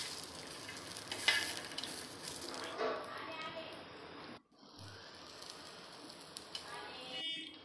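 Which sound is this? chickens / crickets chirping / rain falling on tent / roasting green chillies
roasting green chillies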